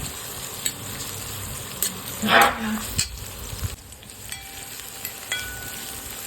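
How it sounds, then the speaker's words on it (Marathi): Chopped onion and green chilli fry in a pan for a Maharashtrian methi bhaji, giving a steady close sizzle with one brief louder burst of spattering partway through; no one speaks. "याच्यामध्ये कटिंग केलेला कांदा टाकून देऊया घेतलेली मिरची हे सगळं आपल्याला व्यवस्थित भाजून घ्यायचं"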